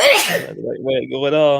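A single sharp sneeze bursts out at the start, close and loud, then a person goes on speaking right after it.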